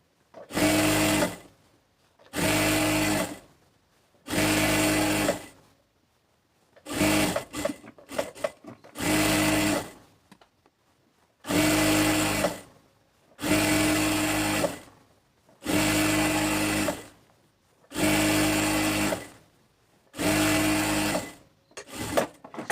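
Sewing machine stitching a women's salwar, running in about nine bursts of a couple of seconds each with short pauses between, steady and close, with some rustling of fabric in the gaps.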